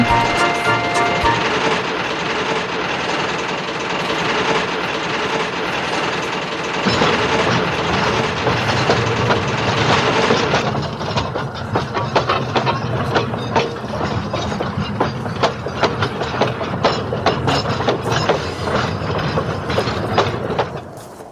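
A model steam engine pulls a train of coaches in a Thomas and Friends setting, giving a loud, sustained rumble that turns into a steady rhythmic clickety-clack of wheels over rail joints, with no voices.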